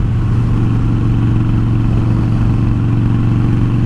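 A motorcycle cruising along country back roads on a warm summer evening, a loud, steady engine drone with wind rumble, recorded close from a helmet camera, no voices.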